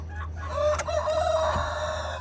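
An Easter egger or olive egger chicken crows inside a coop, a close, loud call lasting about a second with clucking around it and no talk.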